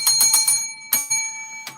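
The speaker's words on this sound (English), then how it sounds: "let me fine tune this bell" A photo booth bell chimes in three quick bright rings, then one more after a pause and a faint final ding, each with a ringing metallic tone.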